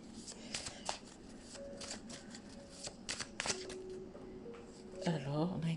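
A small deck of oracle cards is shuffled and riffled close by, in quick irregular bursts of papery flicks, with someone speaking over parts of it.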